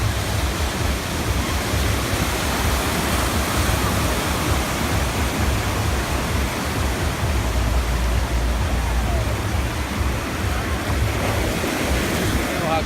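Ocean water at a sandy beach, a steady broadband wash of surf and waves rolling continuously, fairly close and unbroken, with faint wind noise.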